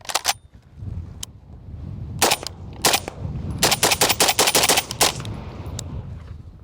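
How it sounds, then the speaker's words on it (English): A 16 CQC airsoft rifle firing a few rounds: sharp, close snapping shots come singly and then in quick rapid bursts, with mechanical clatter in between. "I'll post a short clip of me shooting a few rounds through this weekend."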